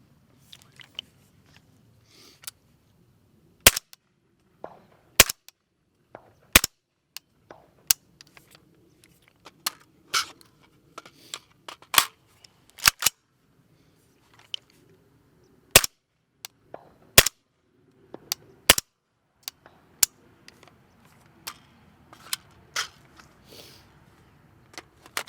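Sharp gunshots from a rifle fitted with a Magpul BAD lever, several loud isolated cracks spaced a second or more apart, standing out against a quiet outdoor background with faint rustling between shots.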